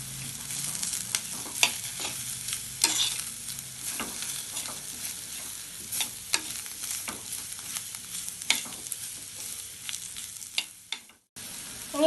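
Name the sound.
drumstick pulp thoran being stirred and mixed in a pan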